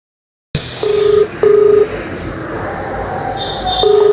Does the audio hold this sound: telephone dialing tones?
yes